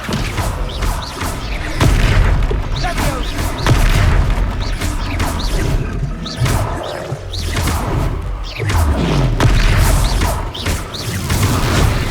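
Fiery Confringo spell blasts and crashes erupt during a Hogwarts Legacy battle, with loud booms, whooshes and impacts layered densely and continuously over a rumbling game soundtrack.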